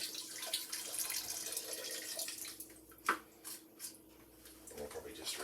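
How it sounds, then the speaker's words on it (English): Water pours into a soup pot for chicken soup, a close splashing rush that fades into a few drips and small splashes while a voice speaks briefly. "So you put another liter of water in there"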